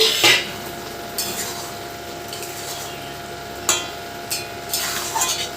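A soft sizzle of paneer and young jackfruit frying in a pan runs underneath a few sharp scrapes and taps of a utensil against the pan.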